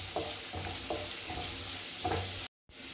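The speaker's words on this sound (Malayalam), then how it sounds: "വെളുത്തുള്ളി ഒരു ബ്രൗൺ കളറാവുന്നത് വരെ നമുക്ക് ഇളക്കി കൊടുക്കണം" Chopped garlic stirred and fried in hot oil for garlic chicken: a close, even sizzle with regular stirring scrapes about every half second, then a brief moment of silence before the sizzle returns.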